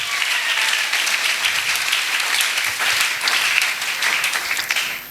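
A church congregation applauding, a dense sustained wave of clapping from many hands that stays loud and steady throughout.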